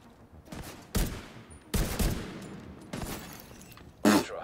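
Gunfire from The Division 2 video game bursts out loud and close in four sharp volleys, each fading before the next, with a short rattle near the end.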